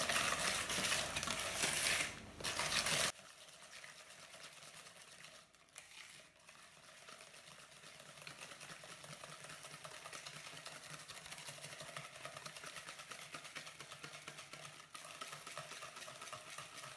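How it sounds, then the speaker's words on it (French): A whisk beats cheese into blanched egg yolks in a bowl, making a steady, quiet rhythmic swishing and light clinking against the bowl, with a louder burst at the start before settling into a soft, even whisking. "Avec le fouet, on va mélanger notre fromage avec nos jaunes"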